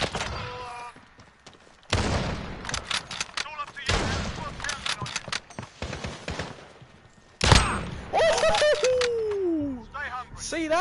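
Bursts of gunfire from the video game Call of Duty Modern Warfare in a 2v2 match come in several loud clusters of rapid shots, with a person's voice talking between and over them.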